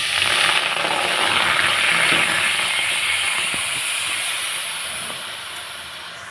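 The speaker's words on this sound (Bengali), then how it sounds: "দিয়ে দেবো একটু জল।" Water poured into a hot kadai hisses steadily, a loud broad steamy rush that holds for several seconds and slowly fades, with a few faint clicks underneath.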